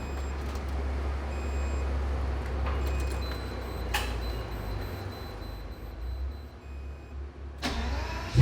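A full-carbon McLaren Senna engine fires up and settles into a steady low idle, the rumble continuous at close range with a few brief clicks and a sharper burst near the end; no talking.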